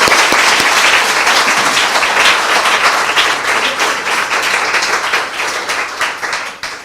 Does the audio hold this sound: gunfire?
no